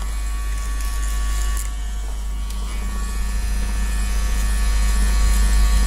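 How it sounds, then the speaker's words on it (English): Electric hair clippers buzz steadily and loudly at close range over a constant low hum, cutting hair in a barber's grooming session with the lever set to its longest length, with no talk. "doesn't really matter what kind of clippers you're using, set the lever to its longest"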